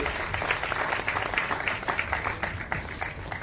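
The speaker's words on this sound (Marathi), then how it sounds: "एकदा जोरदार टाळ्या या सर्व कलाकारांसाठी." An audience claps for the cast of a Marathi film at a promotional event: a steady, moderately distant burst of crowd applause with dense overlapping claps throughout.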